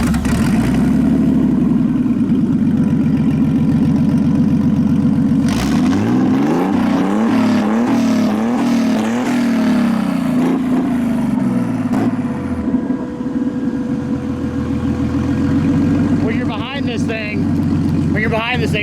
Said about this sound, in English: You want to fire it up for us and just give us a little few revs?